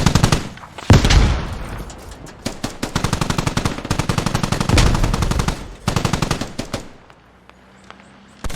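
Sustained automatic gunfire aimed at a Russian vehicle in the Squad military shooter, rapid loud bursts stacking into long strings with brief gaps, fading to quiet near the end.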